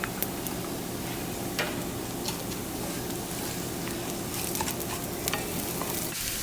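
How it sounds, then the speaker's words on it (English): Butter sizzles steadily and loudly in a hot pan lid, a dense continuous crackle with a few sharper pops and stirring clicks scattered through. "Clearly, I'm serving lots of sizzle in this video."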